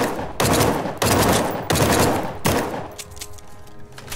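Gunfire in the video game The Front: four loud, close bursts of automatic fire in quick succession, each cut off sharply, followed by fainter scattered shots.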